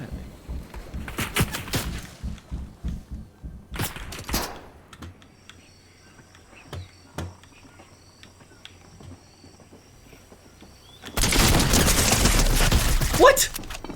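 Rapid bursts of gunfire from a Commodore 64 video game crackle at the start, a dense rattling volley; after a quieter stretch with sparse clicks, a loud sustained burst of noise erupts near the end.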